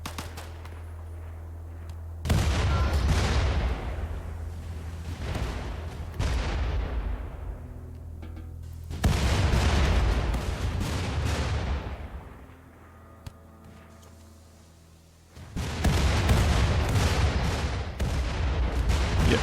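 Gunfire in Rimworld arrives as three long, loud bursts of rapid, rattling shots, separated by brief quieter gaps filled with low background hum.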